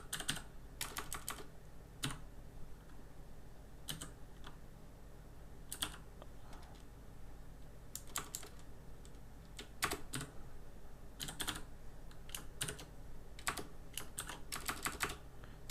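Computer keyboard keys tapped while code is typed for an Android app, coming in quick irregular bursts of clicks separated by short pauses against a quiet room hum, with no talking.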